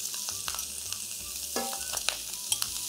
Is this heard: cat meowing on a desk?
no